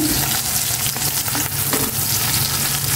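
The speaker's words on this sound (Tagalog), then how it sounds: "Ayan na po yung tuyo. Nalagyan ko ng konting mantika ni mama." Dried fish (tuyo) frying in a little cooking oil at home, a steady close sizzle with crackling spatters running throughout, no voices.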